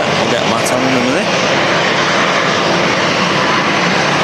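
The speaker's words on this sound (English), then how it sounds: "Jet2 Holidays livery 737 with no winglets. Touching down on this beautiful evening here at Manchester Airport" A Jet2 Holidays Boeing 737 without winglets touches down at Manchester Airport on a windy evening, a loud continuous engine roar and rushing wind noise that fills the whole stretch, with a brief whine standing out early on.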